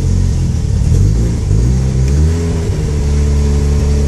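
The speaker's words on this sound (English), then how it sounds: "if I keep my foot on the gas pedal, then it just keep running" A 1988 Mazda RX7 FC3S turbo rotary engine with a stalling, dropping idle runs loud and close while the gas pedal is held, a steady rough drone with wavering pitch throughout.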